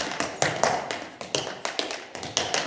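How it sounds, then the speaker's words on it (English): Quick tap dancing solo by a performer on stage: rapid, crisp heel-and-toe taps in an uneven flurry, close and fairly loud, with no talk over it. "A quick tap dancing solo."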